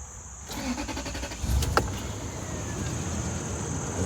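A used Toyota SUV starts up: a brief crank followed by the engine catching and settling into a steady, smooth idle, heard close by with no talking.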